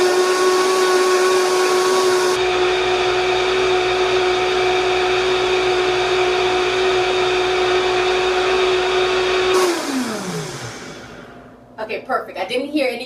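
A blender runs steadily on almond milk with dates, a loud sustained whir that holds for several seconds, then winds down as the motor stops, with brief clatter at the end.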